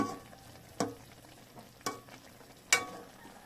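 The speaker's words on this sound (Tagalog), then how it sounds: "Magluluto po tayo ng gulay." Vegetables with mud crab stir-fried in a pan in a home kitchen: three distinct scraping clanks of a spatula at roughly one-second intervals over a quiet, soft sizzle.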